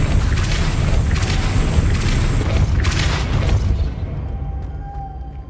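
A Depulso spell cast in Hogwarts Legacy lands as a loud, booming magical blast with layered whooshing bursts, then rumbles and fades over the final second.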